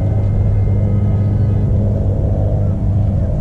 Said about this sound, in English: Now the traffic noise is behind me.